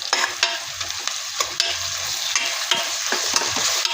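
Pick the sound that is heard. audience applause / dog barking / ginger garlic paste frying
ginger garlic paste frying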